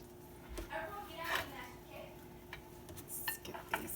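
Chopped onions drop into a pot of beans and tomatoes for a simple low-carb sauce, with a few close clinks and scrapes of utensil against cookware, scattered and irregular, mixed with faint kitchen handling noise.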